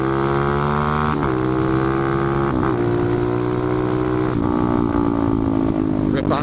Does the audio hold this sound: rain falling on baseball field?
no